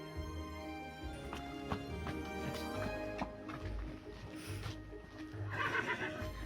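A miniature horse whinnies in several loud, high, wavering neighs with a few hoof clops and rustling between the calls.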